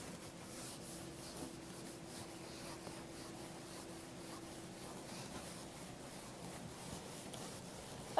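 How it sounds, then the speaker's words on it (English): Eraser rubbing across a board in steady, soft continuous strokes, faint and close, with no talking. "And I'm going to erase this."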